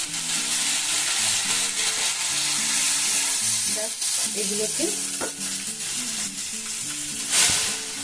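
Chili, cumin and coriander spice powders fry in a little water in a frying pan, a steady loud sizzle running throughout with a cluster of spatula scrapes and clinks partway through.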